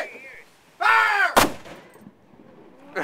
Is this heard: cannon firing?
yes